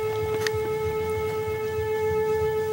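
An ARP Axxe synthesizer with a jumper bypassing its attack slider holds a steady, sustained tone with several stacked harmonics, heard alone over a faint low rumble.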